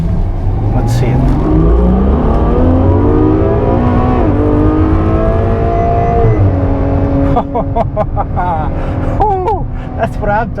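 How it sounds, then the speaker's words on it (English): A 2015 Ferrari F12 Berlinetta engine roars loudly up close, rising in pitch through hard acceleration with upshifts, then sharp revving blips near the end. "you can hear that engine roar"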